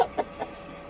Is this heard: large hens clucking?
yes